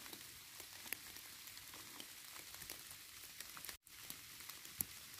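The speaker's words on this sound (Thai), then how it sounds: "เจอฝนนะครับ" Rain falling in a forest during a hunt for wild mushrooms, a faint, steady patter and crackle on the ground and leaves with no voices.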